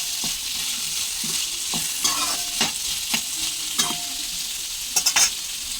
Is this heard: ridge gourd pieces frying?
yes